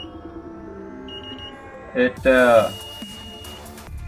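A burglar and fire alarm system: a faint electronic tone, then a short loud beep followed by a longer beep burst, with a brief spoken word in the middle.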